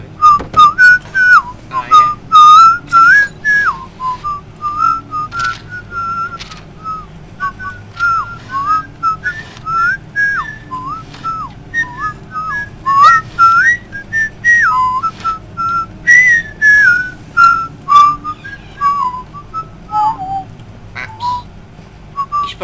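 A person whistles a catchy tune close and loud in short melodic phrases with brief pauses between them, keeping up the lilting melody for about twenty seconds while playing the game Amnesia, with a few quick words spoken between phrases.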